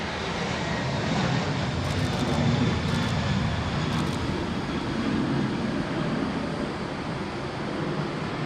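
A Qantas airliner landing on runway 34 left at Sydney Airport gives a steady, loud broadband engine roar that holds evenly throughout, with faint radio chatter beneath.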